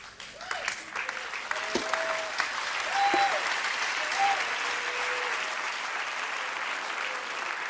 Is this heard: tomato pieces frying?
no